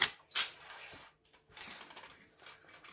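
A sewing machine stitches and back-stitches a hoodie seam for McCalls M6614, heard up close as short mechanical whirring bursts separated by brief pauses.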